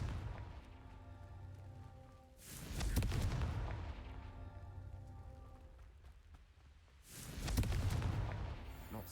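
A Confringo blasting curse explosion in Hogwarts Legacy, two bursts of crackling, rumbling blast noise a few seconds apart over a steady low game ambience, no voices.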